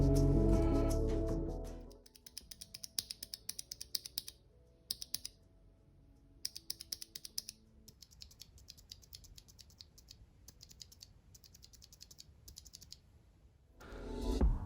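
Typing on a WASD V3 keyboard fitted with lubed Cherry MX Brown switches, a steady run of crisp, close keystrokes with short pauses, framed by a rumbling noise at the start and end.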